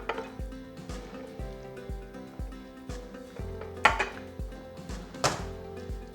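A utensil works a surimi mixture in a bowl, producing repeated knocking and scraping strokes in a fairly regular rhythm, close by and moderately quiet, with a few sharper clacks.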